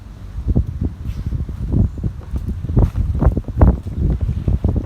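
Strong outdoor wind gusts buffet the microphone in loud, uneven rumbling bursts, continuous throughout with no voices.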